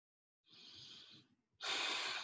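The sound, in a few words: slow deep breathing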